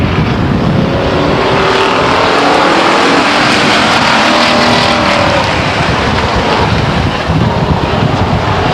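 Race cars at Stockton 99 Speedway roar loudly as they take the green flag, a dense, continuous engine wash with wind buffeting, steady and close throughout.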